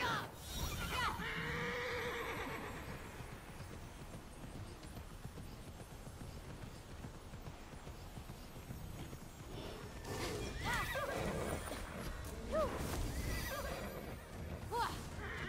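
Horse neighing and clip-clopping hooves in the Immortals Fenyx Rising video game, a steady run of hoofbeats with whinnies near the start and again toward the end, with faint talk over it.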